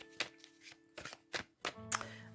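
Tarot cards are shuffled in short, soft bursts of riffling and slapping, four or five quick handfuls with gaps between, close and quiet.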